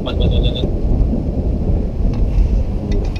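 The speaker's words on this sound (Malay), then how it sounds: "bunyi guruh dah" Thunder rumbles steadily outdoors during a satellite dish installation in Jasin, Melaka, a broad low roll that persists throughout, with a few brief high chirps at the very start.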